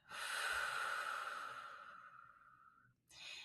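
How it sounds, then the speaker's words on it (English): One slow, deep, breathy exhale, close and soft, trails off gradually over about three seconds, followed by the start of another breath. "try to pause and just take a deep breath in"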